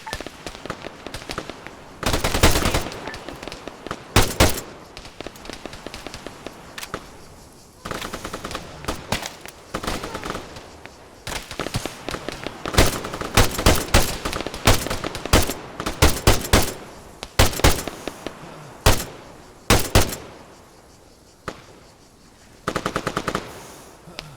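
Machine-gun fire in Arma 3 crackles in loud, repeated bursts of rapid shots, some close and sharp, others overlapping, with short pauses between volleys throughout a sustained firefight.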